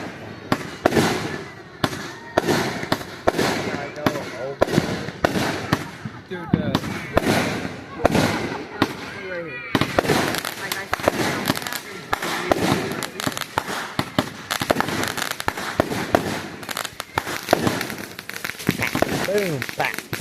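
Fireworks and firecrackers pop and crackle in rapid, dense bursts for about twenty seconds, sharp loud bangs mixed with sputtering crackle, while people talk and shout throughout.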